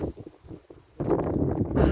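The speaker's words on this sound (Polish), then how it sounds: "Ale fajnie zawiało wiatrem." Outdoors on a hillside path near a castle, a short burst of wind noise rushes in and buffets the microphone after a quieter, rustling moment.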